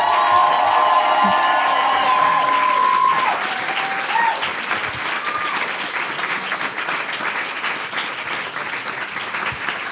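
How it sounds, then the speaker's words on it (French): Audience at a live French event applauds loudly with cheers and whoops for a performer, a dense wash of clapping that stays steady, then eases slightly but continues throughout. "Faites du bruit pour Mina Violette, notre petite voix, s'il vous plaît."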